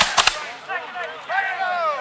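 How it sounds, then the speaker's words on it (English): Musket volley fired at a Valley Forge reenactment: a sharp ragged crack of several shots at once right at the start, followed by shouting and cheering voices that carry on over the fading echo. "Every time you fire 5 rounds, take your aim! Fire!"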